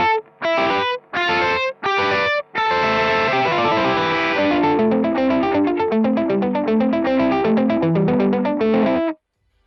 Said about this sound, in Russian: можно сделать задержку, то есть дилей для каждой ноты, для каждой гармонизирующейся ноты